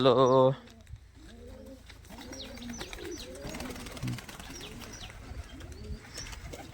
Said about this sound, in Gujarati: આ બધા કબૂતર અહીં સણે છે